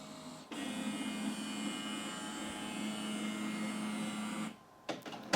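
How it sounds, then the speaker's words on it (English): The scanner head of a Kodak Hero 7.1 printer whirs steadily in one continuous pass, fairly quiet, then stops abruptly, followed by a few small mechanical clicks. "So that whirring noise at the moment is the scanner head going across."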